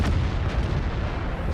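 Tank gun firing in World of Tanks from a T-54 first prototype Soviet medium tank, a single heavy booming blast with a dense rumbling tail, close and loud with no talk.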